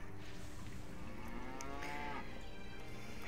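Cattle moo in the World of Warcraft video game, a drawn-out lowing call rising and falling over steady game background noise, with no talk.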